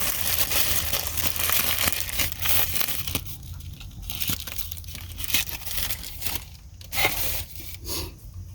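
A loaf of bread having its ends cut off with a knife in a van kitchen, giving steady crunching, crinkling crust sounds with sharper crackles toward the end, close and fairly loud, with no talking.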